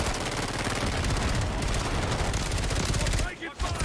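Dense, continuous automatic gunfire from Call of Duty Modern Warfare 3 multiplayer, loud rapid bursts rattling without pause before a short break and then resuming.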